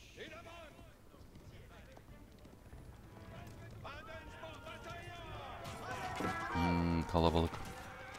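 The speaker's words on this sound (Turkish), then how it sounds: "Şuradan birazdan ticaret atı çıkacak arabası" Hooves of a horse pulling a trade cart clop along in the medieval strategy game Age of Empires 4, mixed with other game sounds and growing louder near the end.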